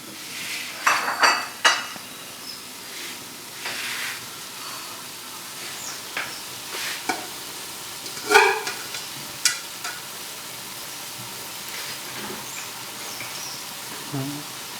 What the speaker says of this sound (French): nous allons laisser mijoter avec la tomate